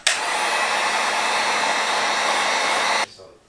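A heat gun warming vinyl wrap on a car blows a loud steady close whoosh for about three seconds, then cuts off abruptly into quiet.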